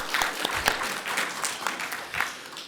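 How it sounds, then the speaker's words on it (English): A conference audience at LABSCon claps in a round of applause, a dense patter of many hands, moderately quiet and steady. "So let's give them a round of applause before we get started"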